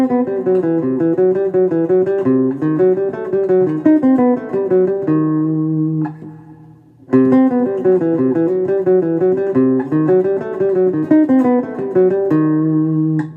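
A clean guitar riff from an intro: plucked single notes move through a repeating melodic pattern, pausing briefly midway before the phrase starts again.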